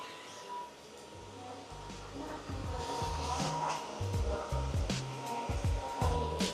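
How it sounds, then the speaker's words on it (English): A DRYFT floor cleaning machine runs inside a train station, a steady whirring motor hum with scrubbing noise and the clatter of the busy station around it. "we'll go into these corners now with the machine, just so you can see the machine's ability to clean corners"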